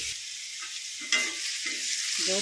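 Boiled potatoes frying plain in an oiled pan, giving a steady close-up sizzle hiss broken by several scraping stirs of a spoon.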